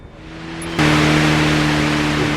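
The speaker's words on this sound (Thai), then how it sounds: "เสียงรถ" Steady car engine drone with tonal hum in the video game Police Simulator, suddenly jumping into a louder, broader roar of engine and road noise, sustained to the end.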